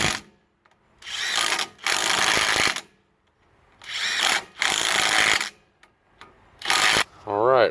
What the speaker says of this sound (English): So we'll go ahead and run those bolts in